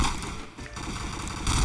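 Rapid gunfire in a shooter video game, dense bursts of automatic shots overlapping into a continuous loud barrage, briefly thinning midway before surging again.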